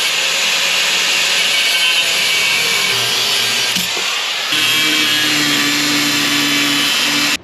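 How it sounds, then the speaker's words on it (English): Steady abrasive grinding as nuts are cut off a cheap, undriveable V6 engine, a continuous loud rasp with shifting tone and a brief dip midway, no talk. "So all of the nuts I've just ground off"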